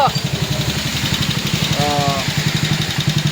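A motorcycle engine idles steadily with a rhythmic chugging pulse close by after being started, while someone speaks briefly over it.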